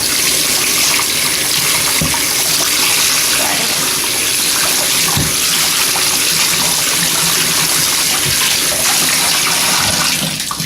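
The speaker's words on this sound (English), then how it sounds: "I'm filling my tub with room temperature water" A bathtub filling with room-temperature water from the tap, a steady, loud broadband rush of running water that continues unbroken throughout, with faint splashes and small knocks now and then.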